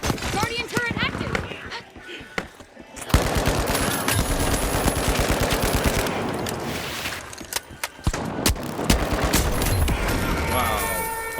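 A guardian turret fires in a video game, loud rapid bursts of automatic gunfire in long rattling strings, broken by short pauses, with a voice speaking over the mix.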